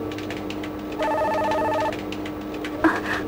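Telephone ringing in the Mega CD game The Laughing SalesMan: a single electronic ring burst of about a second over a low musical background, followed by a short chime.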